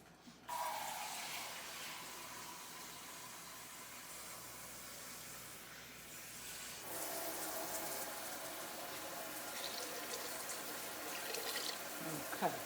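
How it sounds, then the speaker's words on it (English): Water pours steadily into a Le Creuset Dutch oven holding a pot roast, a close, hissing stream that runs for several seconds, briefly eases, then grows louder again. "I'm putting some more water in here because I wanted to kind of nearly cover my roast"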